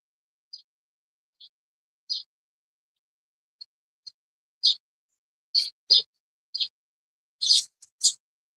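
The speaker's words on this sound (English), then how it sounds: "Can you hear the birds as loud on the laptop as you could on the phone?" Birds outdoors give short, thin chirps, scattered at first and then coming faster and closer together toward the end, faint against an otherwise silent background.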